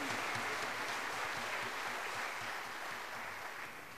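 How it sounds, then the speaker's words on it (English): Applause for a mariachi singer at a school mariachi performance, a steady wash of clapping heard at a distance, fairly faint and tapering slightly toward the end. "Can we give her a round of applause?"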